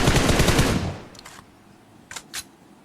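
Gunfire in a close-range fight in a shooting video game: a loud, dense burst of rapid automatic fire for about a second, then two short separate tap shots, with no voices.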